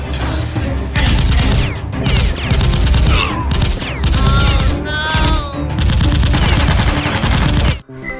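A toy pistol fires loud electronic gunfire effects in rapid bursts, close up, broken by brief gaps and shifting warbling tones, ending abruptly.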